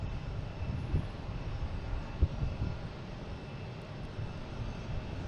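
A JetBlue airliner arriving from Cleveland at Boston Logan, a low, steady engine rumble at moderate distance with a couple of brief thumps, no voices.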